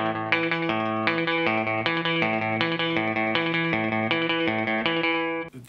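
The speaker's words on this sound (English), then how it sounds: "This one especially, you can hear some slapback echo on there." Electric guitar riff in A played through a Roland Space Echo RE-20 with slapback echo, a steady rhythmic pattern of distorted chords repeating alone and loud, with a short echo trailing each hit.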